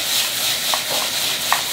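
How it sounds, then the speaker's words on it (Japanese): Onions and carrots sauté in a pot with a pinch of salt while a chef cooks a waterless chicken spice curry, giving a soft steady sizzle with a couple of faint stirring clinks. "あとはちょっとソテーしていきます。"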